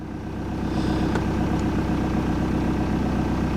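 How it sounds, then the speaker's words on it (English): A car engine idles steadily and evenly, loud and close, with a constant low rumble and no talking. "engine is up and running now, idling nicely"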